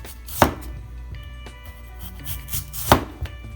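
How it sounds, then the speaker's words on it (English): A knife chops through potatoes on a board, cutting them into thin fries for homemade fish and chips: two sharp, close cuts about two and a half seconds apart, with no talk. "with the potatoes, we're just going to kind of flip it on its side, cut it like this"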